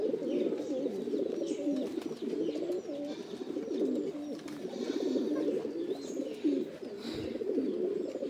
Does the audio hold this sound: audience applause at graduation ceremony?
no